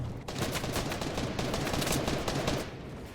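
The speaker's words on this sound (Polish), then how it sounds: "O, tam się strzelają, dobra, biegnę tam." Dense, rapid gunfire in the video game Fortnite crackles continuously for a few seconds, a sustained burst of shots at a fairly distant, even level.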